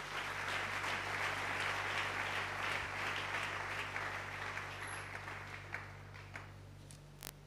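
Congregation applauding in a church service, a dense sustained wash of clapping that gradually thins toward the end, with a steady low hum beneath.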